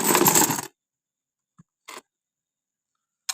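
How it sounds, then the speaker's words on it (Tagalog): Coins poured from a wallet packed full of them: a brief loud jingling rush at the start, then silence broken by a few isolated small clinks. "Ayan, marami pong barya."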